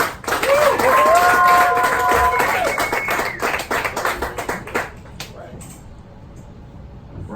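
Audience applause and cheering for comedian Leon Scott in the DC Comedy Loft basement club, loud dense clapping with whoops that swells and then thins into scattered claps and crowd murmur.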